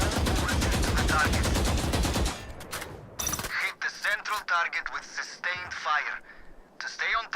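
Video game shooting tutorial with bursts of rapid automatic gunfire up front, then several short shots between stretches of a voice talking.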